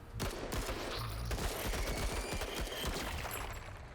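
Gunfire salvo in the tactical RPG game Menace: a sustained, dense fusillade of rapid shots and bursts, loud and continuous throughout with no pauses.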